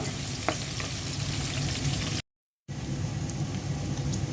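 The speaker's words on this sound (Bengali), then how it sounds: "পেঁয়াজটা বেশি ভাজবো না হালকা ভাজবো" Onion fries lightly in a pan with a steady, close crackling sizzle, broken by a brief silent gap midway before the sizzling resumes.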